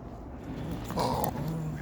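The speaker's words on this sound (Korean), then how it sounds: "요만할 때도 으르렁 대고 으르렁 으르렁" A brindle Korean Jindo puppy gives a low, rumbling growl close up, a short continuous snarl that swells slightly midway over faint room noise.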